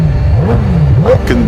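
A McLaren Senna engine revs up loudly and close by, rising and falling in pitch over a brief burst with a throaty intake roar.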